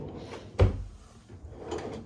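Hotel room drawer at a Disney resort sliding open or shut once with a single soft wooden thump, followed by a faint rustle, quiet and close.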